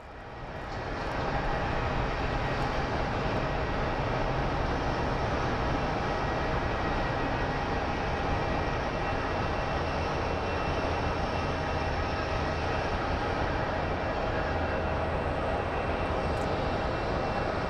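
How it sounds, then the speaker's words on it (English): A Boeing 737 airliner, likely a Southwest jet, runs its engines at Phoenix Sky Harbor, a steady, loud, broadband roar held evenly for the whole stretch without any talking. "Well, it's another 737."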